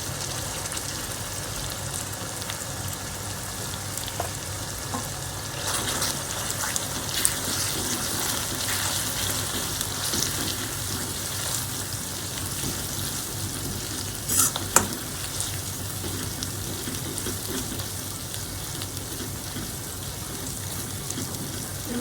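Masala for bharli vangi fries in oil with a steady, crackling sizzle that rises and falls as it is stirred, with occasional sharper pops and scrapes and no voices.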